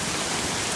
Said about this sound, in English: this is some heavy